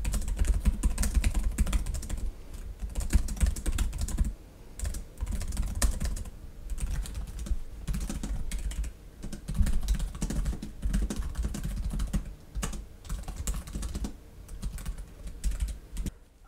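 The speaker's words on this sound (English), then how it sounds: "the keyboard feels like a ThinkPad keyboard" Typing on the keyboard of a 2023 Lenovo ThinkPad X1 Nano laptop: a steady, close run of soft key clicks with a few short pauses, heard alone without talk.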